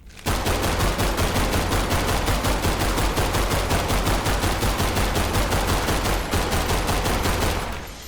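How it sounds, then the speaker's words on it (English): A semi-automatic gun in the Roblox game Grave/Digger fires in a steady, rapid stream of close, loud shots for several seconds, then stops abruptly. "you guys may have seen me stop mid shooting. That's because it's not auto. It's not full auto. It's semi, right?"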